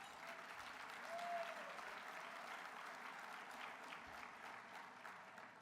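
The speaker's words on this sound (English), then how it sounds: "let's give them a round of applause" Sustained applause from a banquet audience for scholarship students at a LULAC convention awards dinner, a dense, even crowd clapping across the whole stretch, peaking slightly early on.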